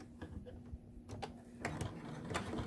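A sewing machine stitches a fabric face mask, a faint, quick mechanical whir with light ticking and a few clicks, close and quiet, no speech over it.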